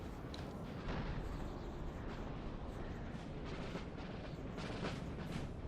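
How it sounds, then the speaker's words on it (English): Napoleonic-era rifle volleys in a Napoleon Total War multiplayer battle, heard as a low, continuous rumble of distant massed musketry with scattered sharp pops, quiet and unbroken throughout. "the USA, Baltimore Rifles, opening up fire already here"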